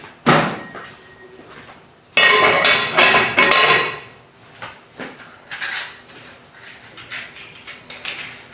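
A lid clanks onto a pot of beef boiled without oil with ginger powder, in a home kitchen. A sharp knock is followed by a dense burst of metallic clattering, then lighter scattered clinks, all close and fairly loud.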